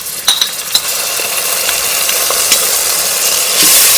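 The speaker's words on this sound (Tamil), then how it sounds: "எண்ணெயிலே நல்லா வதக்கி விட்டுருங்க" Browned onion and ginger garlic paste sauté in oil in a pan for tomato rice, with a soft continuous sizzle and occasional light clicks of a spoon stirring against the pan.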